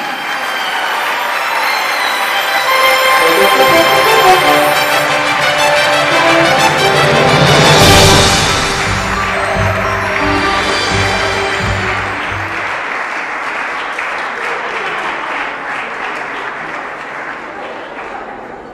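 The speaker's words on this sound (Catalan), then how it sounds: "Un fort aplaudiment." An audience at the Sants Montjuïc awards ceremony in Barcelona gives sustained applause, close and full, with voices mixed in. The clapping slowly thins out toward the end.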